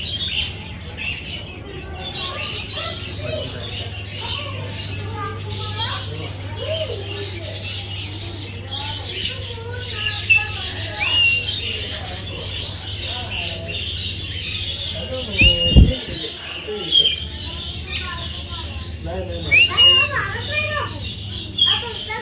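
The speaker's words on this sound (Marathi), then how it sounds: "Lovebirds." Lovebirds and parrots call in short chirps and tweets at a fort along a bike and trekking route near Mumbai, scattered over steady low background hum with people talking nearby.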